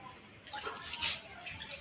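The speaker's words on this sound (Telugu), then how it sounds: "వాటి మీద వేడి నీళ్ళు కాగబెట్టుకొని ఇలా చల్లాలి" Hot water is sprinkled by hand over a pile of pigeon pea seeds, giving a soft, brief splashing hiss that swells for about a second. The sound is faint and close, with no talk.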